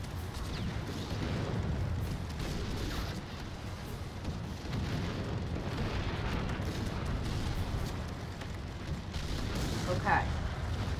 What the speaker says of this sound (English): Artillery down there.